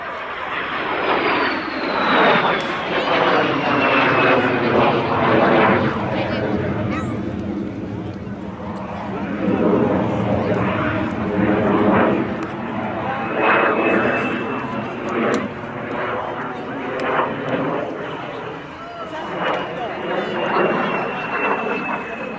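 A de Havilland DH 100 Vampire jet flies a display pass with a loud, steady engine roar that swells and shifts in pitch as it moves past. Whistling tones sweep downward, and the sound stays near throughout.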